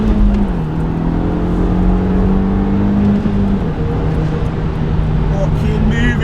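An Audi S3 8P pulls hard with a loud, continuous engine drone heard from inside, its pitch dropping briefly twice as gears change before climbing again.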